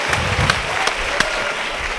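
An audience in a comedy parliament show applauds, a dense wash of clapping with a few sharper individual claps standing out, sustained for the whole moment.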